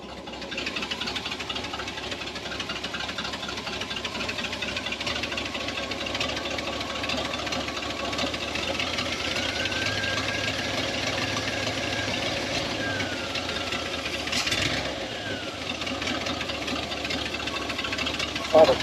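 Rough, uneven running of a 1978 Chevy K10 square-body 4x4 engine with a wiped cam, a steady mid-pitched chug and knock held close and continuous, with a brief sharper burst near the end.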